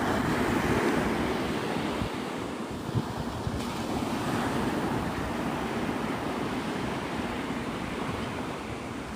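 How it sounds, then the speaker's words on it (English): Ocean surf rolls steadily onto Navarre Beach at sunrise, a dense, continuous wash of breaking waves blended with gusty wind buffeting the microphone, with no voices. "I want a microphone that you can still hear the ocean in the background"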